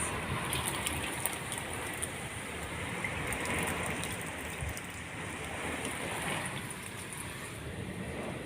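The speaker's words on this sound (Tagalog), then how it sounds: "grabe na naman ang lakas ng ulan" Heavy rain pours steadily in a dense, continuous hiss with no pauses, close by and fairly loud, with no voices.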